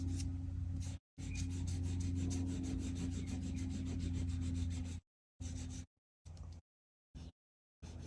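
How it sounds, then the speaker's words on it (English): An eraser rubs grey pencil lead off the edge of a drawing of an apple with steady, close, scratchy strokes. A long continuous stretch gives way to short separate bursts with silent gaps between them. "now just rub out those little bits of grey lead on the edge"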